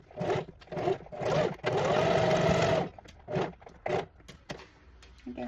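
A sewing machine back stitching over ribbon, running in short bursts of rapid needle chatter with one longer steady run in the middle and brief pauses between, close and clear with no talking.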